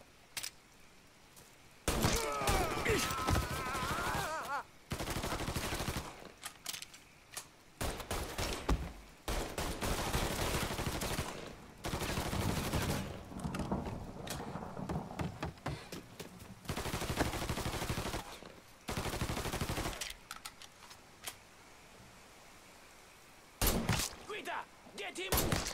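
Gunfire in the Mafia III video game: long, loud bursts of automatic fire and rapid shots come in repeated waves with brief pauses between them, and voices shout over the shooting.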